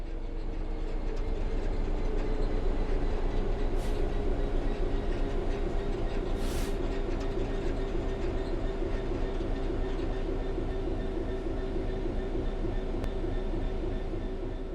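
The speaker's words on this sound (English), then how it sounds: "The train will then coast on level ground, and the train will only slow down very gradually." A train coasts on level ground in a train simulator, giving a steady, continuous rolling rumble with a low hum and faint rhythmic wheel noise, plus a couple of brief high hisses; no voices.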